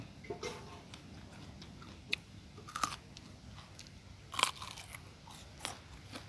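Crisp bites and chewing on ripe Barhi yellow dates, near and fairly quiet, with a few sharper crunches scattered over several seconds and no talk.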